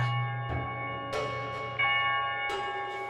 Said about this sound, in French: la cloche de l'église Saint-Jean-l'Évangéliste sonne le glas des morts